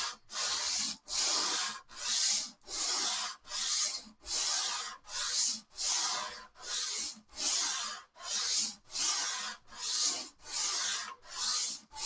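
Rhythmic back-and-forth rasping of 100 grit sandpaper on a radius block across a vintage classical guitar fretboard, a steady stroke roughly every second, close and alone.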